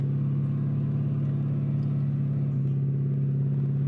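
A Dodge 392 V8 held at a steady, loud, close rumbling rev against the brakes during a launch, droning continuously with only slight variation in pitch.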